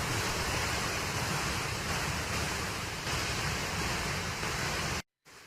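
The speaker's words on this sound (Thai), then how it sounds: "น้ำตกใดช่องถ่องนะครับ เป็นน้ำตกขนาดกลางนะครับผม เป็นน้ำตกหิน" A medium-sized rock waterfall at Dai Chong Thong in Kanchanaburi roars as a steady, dense rush of water, loud and unbroken, then cuts off abruptly near the end.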